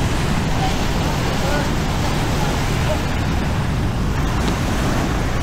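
Rough ocean surf breaks at Boracay beach, unusually choppy waves making a steady, loud roar of washing water that fills the whole stretch without pause.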